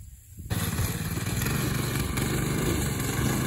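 A Predator 212cc go-kart engine roars to life after a brief quiet moment and holds a loud, steady, buzzing drone near full throttle for the rest of the clip.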